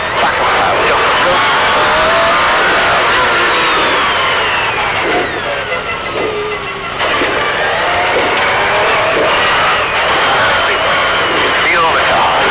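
A 1980s MG Metro 6R4 rally car engine revs hard as the driver gets back on the power, a loud close rising snarl that dips briefly and surges again, with an excited coaching voice calling out over it.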